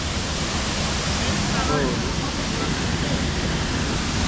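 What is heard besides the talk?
waterfall at Tibumana Waterfalls, Bali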